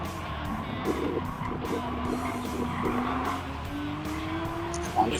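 Race car engine in Gran Turismo 7 holding a steady drone with rising and falling pitch, tires squealing and skidding through corners, loud and continuous.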